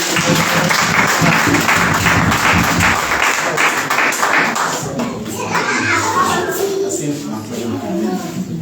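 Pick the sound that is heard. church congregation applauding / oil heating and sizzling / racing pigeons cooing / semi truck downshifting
church congregation applauding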